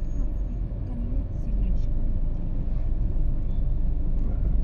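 Low road traffic rumbles around a car driving through Metro Manila at night, a steady engine drone under a voice talking.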